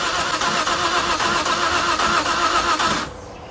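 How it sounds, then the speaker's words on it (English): A 2013 Vauxhall Corsa 1.0 engine cranks steadily without catching, a loud rhythmic churning with an uneven, skipping beat that runs for about three seconds before cutting off to quiet. "I don't understand why it's not starting. It's definitely sounding like it's skipping"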